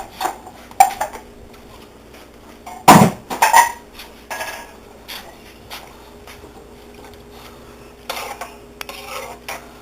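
Diced tomatoes for a shrimp étouffée go into a hot pan and are stirred, with sharp metallic clanks of a spoon against the pot and scattered scraping under otherwise quiet moments.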